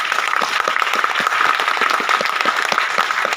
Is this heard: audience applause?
yes